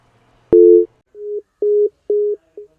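A phone line gives a busy tone after a call is cut off: one longer electronic beep, then four short evenly spaced beeps, loud and clear with no talking.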